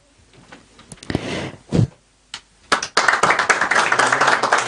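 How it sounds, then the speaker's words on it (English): Audience clapping at a Kenyan health-sector meeting on infection prevention and control, starting with scattered claps and a few loud close knocks, then swelling into steady dense applause for the rest of the moment. "Let's clap for Homa Bay."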